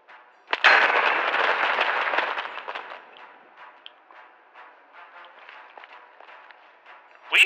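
A bomb goes off in a video game with a sharp, loud blast, followed by a crackling rumble that fades over a few seconds, and another sharp burst comes right at the end.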